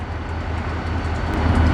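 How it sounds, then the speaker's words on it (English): Inclined railway car of the Duquesne Incline in Pittsburgh, a steady low rumble and hum of the moving car throughout, fairly close and continuous, with no speech. "The Duquesne Incline is an inclined railway located near the south side of Pittsburgh."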